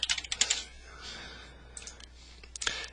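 Quiet typing on a computer keyboard: a few short bursts of light, rapid key clicks separated by brief pauses, faint and close.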